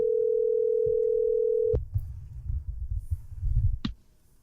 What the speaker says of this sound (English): Let's call Deidre and ask her why she doesn't listen to the show